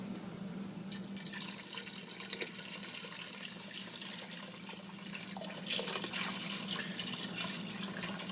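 Tap water running into a container for soup broth in a home kitchen, a steady hissing splash that starts after a moment, rises in pitch as it fills, and swells louder near the end.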